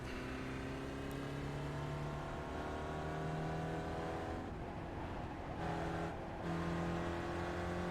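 An SCCA Spec Ford race car at Lime Rock Park drones with a sustained engine note heard from inside, pitch rising and falling through shifts and corners, loud and unbroken.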